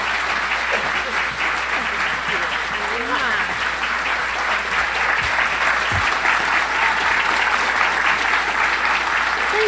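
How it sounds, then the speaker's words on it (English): Sustained, loud applause from a large crowd welcoming a speaker to the stage at a book tour event, continuing steadily with occasional cheers. "Give Rashida Jones a round of applause."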